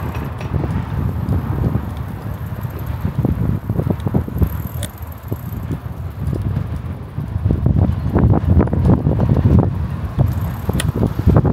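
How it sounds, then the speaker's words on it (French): Wind buffets the microphone while cycling through Moscow, a loud continuous rumbling roar with irregular gusty thumps and rattles that swell toward the end, with no talk. "il y a du vent"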